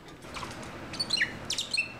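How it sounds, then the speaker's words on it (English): Bourke's parakeets in an aviary give short, high chirps and quick bursts of wing flapping, the calls clustering in the second half, close and fairly soft. "Songster and Blossom are both tame birds"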